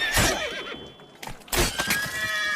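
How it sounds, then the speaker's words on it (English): Horses neigh in The Witcher 3 video game, two loud whinnies close by with a short gap between them, followed by lingering game ambience. "We grab Roderick's horses and we bolt."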